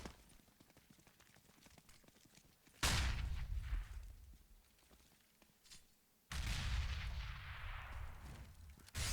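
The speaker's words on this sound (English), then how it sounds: "Grenades go down through long A." Grenade blasts in Counter-Strike on the Cobblestone map during a tournament match, two loud booming bursts that decay into rumble, heard close over quieter background game noise.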